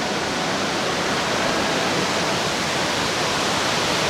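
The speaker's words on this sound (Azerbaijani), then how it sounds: "Xeyli çox şəlalə var burada." One of the many waterfalls around Sapa village in Vietnam, a loud, steady, even rush of falling water that fills the whole clip without pause or voices.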